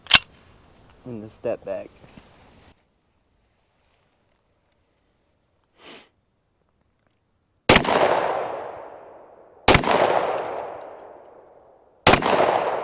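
Hi-Point 10mm JXP10 pistol fired at an outdoor range: three loud, sharp shots about two seconds apart, each followed by a ringing decay. Brief talk and a pause come before the first shot.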